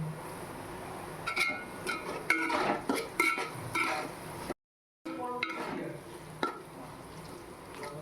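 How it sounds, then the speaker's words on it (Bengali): Onions fry in a pot with salt, a metal spoon scraping and clinking against the pot in irregular stirs over a soft sizzle, with a brief dropout midway. "পেঁয়াজটা অনেকটাই লাল করে ভেজে নিয়েছি"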